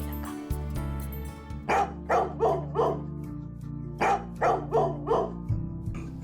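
A big dog barks in two bursts of about four loud, close barks each, over a steady musical background with no talking.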